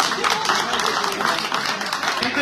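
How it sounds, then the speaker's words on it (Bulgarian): Closing applause for folk musicians at a birthday celebration in a summer garden venue in Kalofer, steady crowd clapping throughout with voices mixed in. "Още веднъж финални аплодисменти за тези уникални музиканти."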